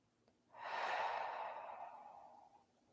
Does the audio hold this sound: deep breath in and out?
yes